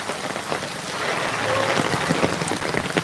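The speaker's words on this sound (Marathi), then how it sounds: "बसस्टँड रोड बघा असे या धूमधडाक्याच्या पावसात सर्व खड्डे पाण्याने जलमय झालेले आहेत" Heavy rain pours onto a potholed bus stand road, a close, dense and steady patter of drops splashing on water-filled holes and pavement.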